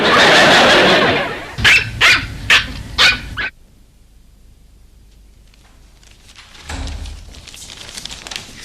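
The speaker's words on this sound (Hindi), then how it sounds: "कुत्ते की भौंकने की आवाज कहाँ से आ रही?" Four sharp dog barks from a TV in a steady rhythm follow a loud burst of noise, then quiet, then a softer rustling sound.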